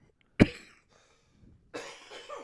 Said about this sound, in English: you're coughing a lot.